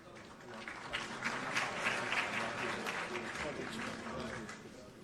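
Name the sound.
audience applause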